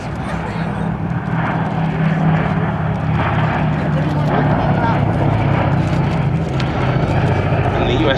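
The B-17 bomber Sally B flies past at the IWM Duxford Battle of Britain anniversary air show, a loud, steady drone of radial piston engines and propellers under continuous commentary over the PA.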